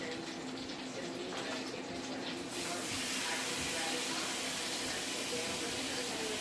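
A tap runs water over a seasoned steak to rinse off excess seasoning salt, a steady close hiss and splash that gets fuller and louder partway through.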